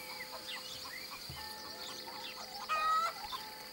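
Two hens in a henhouse, in the middle of laying eggs, give soft, scattered clucks against a steady ambient hum, with a slightly louder burst of clucking near the end.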